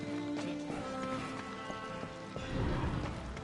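Rapid hoofbeats of a galloping horse in Darksiders 2 drum steadily under the game soundtrack, growing heavier near the end.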